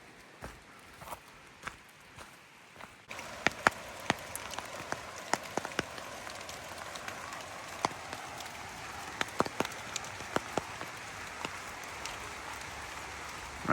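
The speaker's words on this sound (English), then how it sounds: "Rain, more rain." Steady rain patters nearby in a green forest, with scattered heavier drips landing on surfaces, growing louder after a few seconds; no voices.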